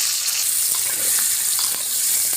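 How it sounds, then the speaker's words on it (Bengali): Sweet pumpkin pieces fry in hot oil, a dense, steady hissing sizzle with faint crackles and occasional light stirring taps throughout. "আমি এই তেলের ভিতরে এই মিষ্টি কুমড়োগুলো ভেজে নিব।"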